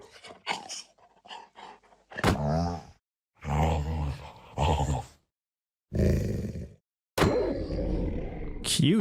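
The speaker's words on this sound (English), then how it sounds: "Here are all the sounds for big wolves." Big wolf sounds from a Minecraft snapshot, a series of separate deep grunts, growls, pants and a roar, each a short isolated call with silent gaps between them.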